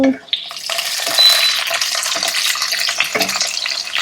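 Garlic frying lightly in a pan for a Tamil Nadu egg omakuzhambu, a steady close sizzle with stirring scrapes and a few brief clinks.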